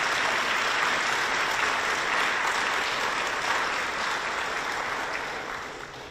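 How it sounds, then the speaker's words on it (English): An audience applauds the Navy Brass Quintet at an exhibit opening on a rainy afternoon, steady dense clapping that holds for several seconds before beginning to fade toward the end. "let's hear it, the round of applause for the Navy Brass Quintet."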